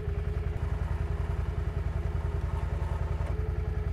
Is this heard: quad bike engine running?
yes